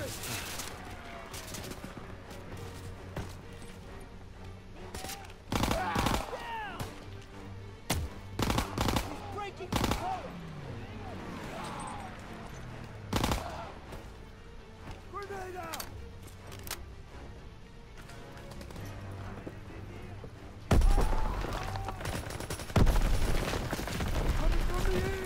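Gunfire in the World War II shooter Call of Duty WW2: bursts of rifle and machine-gun shots with heavy booms, mixed with shouted in-game voices and a louder volley near the end.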